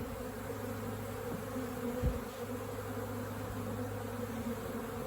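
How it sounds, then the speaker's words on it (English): Honey bees crowd a hive with a continuous close buzzing drone, an even hum with a few individual bees zipping past. A brief knock sounds around the middle, and no one speaks. "They got a lot of bees"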